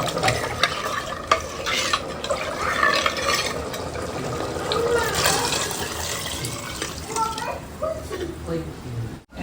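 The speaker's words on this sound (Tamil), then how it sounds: "சாம்பார் நல்லா பாருங்க காய் வந்து நல்லா வெந்துருச்சு கத்திரிக்காய் முருங்கெல்லாம் நல்லா இங்கே எப்படி கொதிச்சுட்டு இருக்கிறாங்க நல்லா கொதிச்சுட்டு இருக்கு" A pot of sambar with brinjal and drumstick boils and bubbles steadily on the stove. A person talks over the soft, continuous bubbling.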